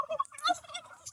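Turkeys at a farm in Baldushk, Albania, letting out a few short gobbling bursts, warbling and fairly close, with brief quiet gaps between calls.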